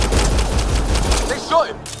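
A rapid burst of automatic gunfire from the Mass Effect video game, loud and dense for over a second, followed by a short shouted voice line.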